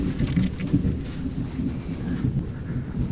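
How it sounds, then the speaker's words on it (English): Thunderstorm with steady rain over a half-built shop addition, a dense low rumble and constant patter filling the brief stretch with no voices. "Thunderstorm."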